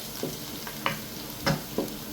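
Chopped garlic sautéing in olive oil on a tawa, with soft sizzling under a few distinct stirring scrapes and clicks of a utensil against the pan.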